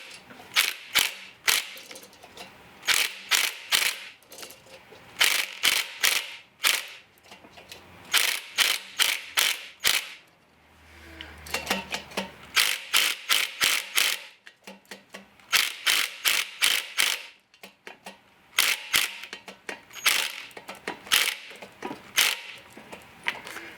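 A ratchet runs up the pinion nut on a Dana 30 axle in rapid, sharp clicking bursts, close and loud, repeated in quick runs with brief pauses and one longer gap midway.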